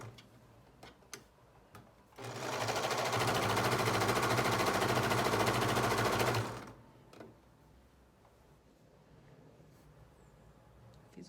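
Sewing machine stitching a French seam on a viscose dress, a fast, even mechanical whir running about four seconds at close range, with quiet room sound before and after.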